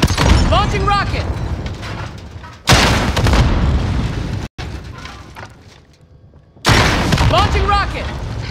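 Rockets launch in a military video game, loud booming bursts of blast and rushing noise in repeated waves, with a voice calling out over them.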